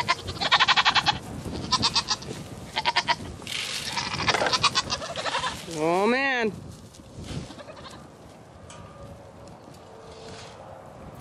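Several goats bleat loudly and close by, including one long wavering cry, while a person speaks briefly.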